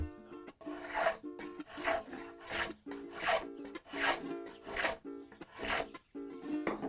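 Rhythmic hand sanding of a hollow guadua bamboo tube for violin making, about nine rasping back-and-forth strokes with a woody, hollow resonance, close and fairly loud.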